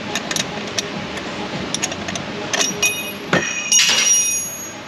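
A flashlight drops into the engine bay of a 2006 Dodge Charger 5.7 and clatters down. Sharp metallic clinks and knocks come at irregular moments, ending in a brief rattle near the end.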